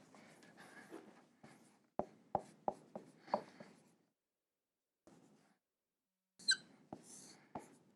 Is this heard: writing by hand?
yes